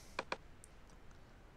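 Two quick clicks of a computer mouse on a Mac, close and crisp, followed by faint quiet room tone.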